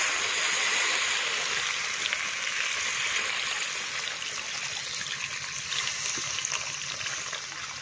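Water pours steadily into a pot of cooking chicken for a biryani, a continuous close splashing rush that eases slightly toward the end, with no talking.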